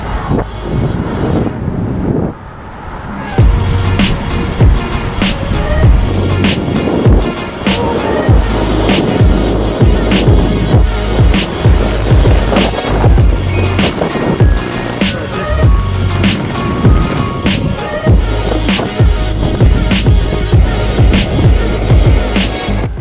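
A penny board rolls outdoors toward the Lazarevsky bridge, with a steady loud wheel rumble, rapid clicks over pavement joints and wind buffeting the microphone. A brief quieter moment comes near the start, then continuous riding.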